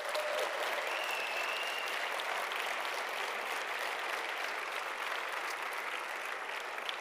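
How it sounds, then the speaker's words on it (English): A lecture audience applauds at length, a dense, even wash of clapping from many hands that holds steady throughout. "we're going to give Eugene one final round of applause to say thank you"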